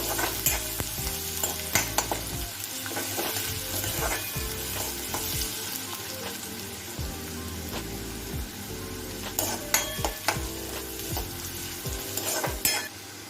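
Onion and curry leaves fry in hot oil for misal: a constant close sizzle broken by repeated spatula scrapes and stirs against the pan, running throughout with no talking.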